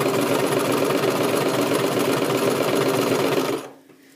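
A domestic sewing machine stitches steadily around the armhole of a basic tunic, its close, continuous whirring and rhythmic needle clatter running loud for about three and a half seconds before stopping abruptly.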